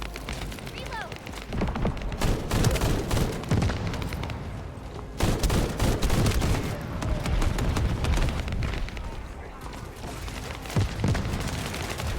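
Rapid automatic weapon fire from The First Descendant, a sci-fi looter-shooter game, with dense bursts and booms rattling continuously throughout, loud and busy alongside other combat effects.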